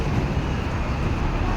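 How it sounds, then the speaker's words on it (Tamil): Steady road traffic rumbles continuously at a busy evening road junction with signals in Southall, London, a dense broadband wash with no distinct vehicles standing out. "ஒரு டிராஃபிக் ஜங்ஷன்,"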